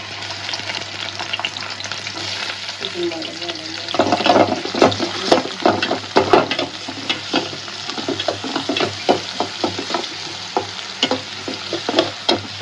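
Onion and bay leaves drop into hot oil for a snakehead fish curry, bursting into a loud, crackling sizzle with repeated stirring scrapes and pops, close by.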